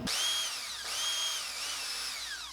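A power drill bores pilot holes for hook hangers into a small wooden JitterBug fishing lure, whining loudly up to speed and dipping in pitch as the bit bites, in two close bursts with no talk.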